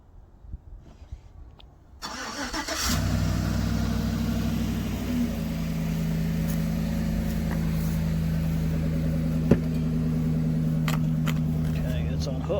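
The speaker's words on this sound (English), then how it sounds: "Alright, so we got the truck moved around" A half-ton pickup truck engine starts after a short quiet stretch, then runs with a steady low drone close by for the rest of the clip, with a faint brief knock near the end.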